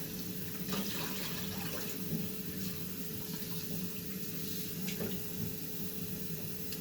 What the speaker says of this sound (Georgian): ასე დავუმატოთ წყალი.